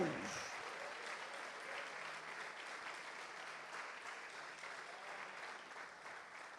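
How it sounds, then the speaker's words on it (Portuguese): A congregation at a state men's church congress applauds in praise, a steady wash of many hands clapping at a fairly faint level throughout. "Dê uma salva de palmas, celebre a presença de Deus."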